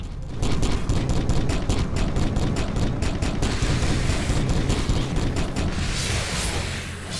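Frag grenades going off in the Warhammer 40k Kill Team video game, a dense roaring barrage of rapid blasts and crackling fire sustained for several seconds, loud and close.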